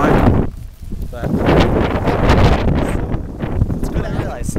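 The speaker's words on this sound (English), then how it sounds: "it's a little windy out today, and I apologize, but I can't control the wind." Gusty wind buffets the microphone in rough, rumbling bursts, fluctuating constantly over a few seconds.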